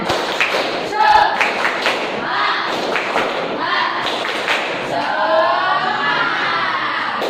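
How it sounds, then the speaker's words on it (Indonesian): A classroom of children performs a rhythmic spirit clap, with thumping claps and taps in a patterned sequence, mixed with children's shouting voices and a teacher talking. "Tepuk semangat."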